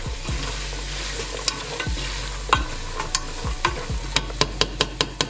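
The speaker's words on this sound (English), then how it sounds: "Now we're gonna drop in our red onions. Give that a mix." Red onions sizzle loudly in a pot for turkey noodle soup while a spoon stirs them, with repeated scrapes and a quick series of sharp clinks near the end, close and with no voices.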